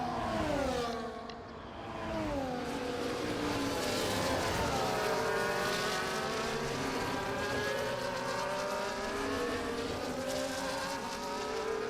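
Race cars lapping the Belgium circuit in the F1 24 racing game, several engines droning and whining together, their pitch rising and bending steadily as the cars pass, loud and continuous with no talk.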